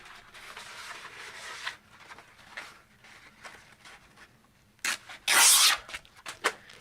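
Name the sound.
sanding with 240 grit sandpaper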